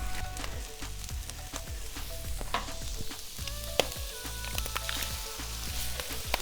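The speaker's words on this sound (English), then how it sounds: "So what I'll do is, while this is frying up here, try to get these last little bit of chunks cut down." Food sizzles and fries steadily on a flat-top griddle, with eggs cooking in butter for fried rice and occasional scraping and clinks of a spatula against the metal; no talking.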